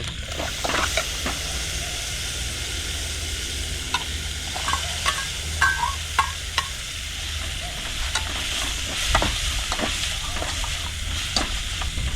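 Oil sizzles and crackles steadily as fish fries in a pan, with occasional sharp pops and a few clinks of a utensil stirring, close by.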